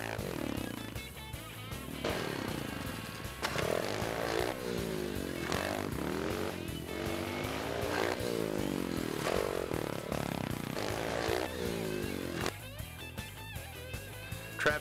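Honda XR50 mini bikes buzz along trails, their small engines revving up and down in repeated bursts, with clattering and scraping mixed into a fairly faint, busy outdoor sound.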